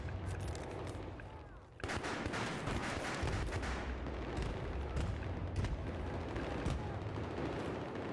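Battlefield 3 combat in Rush mode, with a dense fusillade of gunfire and grenade explosions. A brief lull gives way to a sudden burst, then sharp shots and booms keep coming irregularly over a constant, rumbling battle din.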